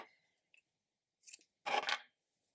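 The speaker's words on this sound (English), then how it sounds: "And then you can trim it." Scissors snip the loose yarn ends on a crocheted toy, two or three short, soft cuts with a faint rustle in between, close and quiet against near silence.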